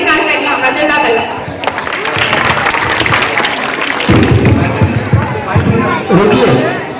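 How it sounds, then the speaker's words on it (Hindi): An audience at an annual school function applauds in a dense, steady wash of clapping, with a crowd murmuring and a voice speaking over it. "आपकी तालियां आनी चाहिए"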